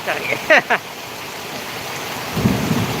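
Heavy rain pours steadily through a thunderstorm, with a low rumble of thunder rolling in near the end and a few brief voices early on.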